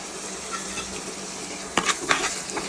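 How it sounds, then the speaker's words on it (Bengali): Spices, including radhuni, fry in a pan with a soft continuous sizzle, then a few sharp scraping clinks of a spoon stirring against the metal toward the end. "এখন আমি 1 মিনিট এই মশলাগুলো ভালো করে একটু কষিয়ে নিব, ভেজে নিব।"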